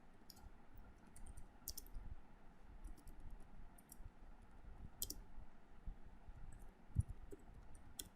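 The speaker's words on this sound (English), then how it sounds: "Now I am entering some text to write in the file." Keys clicking on a computer keyboard as text is entered into a new file, a scattered run of faint, light taps over a steady low hum.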